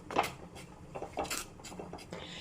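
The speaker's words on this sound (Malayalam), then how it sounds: "ഇനി ഇത് ഒന്നിളക്കി ഇതിൻ്റെ പച്ചമണമൊക്കെ ഒന്ന് പോയി കിട്ടണം." Spices and coriander powder stirred in a pan, a spoon scraping and clinking against the metal in short irregular strokes, close and fairly quiet.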